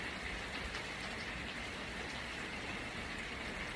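Steady rain falls, a constant even hiss of drops with no break, moderately soft and without voices.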